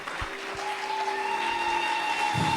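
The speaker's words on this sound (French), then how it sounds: "applaudissez le Seigneur" A church congregation claps continuously in the background at a modest level, a steady wash of hands beating with a faint tone running underneath.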